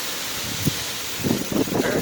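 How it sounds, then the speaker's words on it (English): Strong wind and rain from Hurricane Dorian in Grant, Florida, heard as a dense, steady roar of gusting wind and rain, with a few rustling bursts toward the end. "Wind's blowing the rain down the road."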